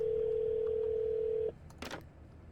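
A telephone dial tone hums steadily in the video game Shadows of Doubt, a clear sustained tone that cuts off abruptly, followed by a brief click and a short clatter.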